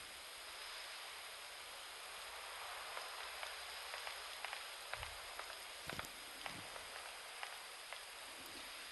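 Heavy rain in the video game The Detention, a steady broadband hiss of downpour with scattered light ticks and drips, sounding continuous and moderately loud throughout.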